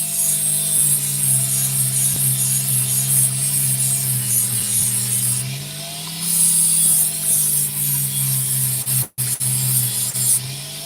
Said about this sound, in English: Very hard to get this Dremel to do the correct tune.